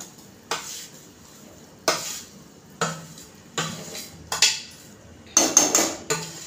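A spoon stirs semolina into hot sugar syrup in a pan for rava ladoo, scraping and knocking against the metal in about six distinct strokes, each trailing off into quiet.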